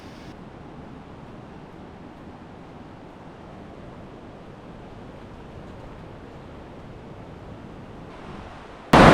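Broadband wash of surf breaking just offshore at a cave-mouth break at Remarkable Caves, Tasmania, a steady rushing roar with no distinct individual wave crashes, ending in a sudden loud burst.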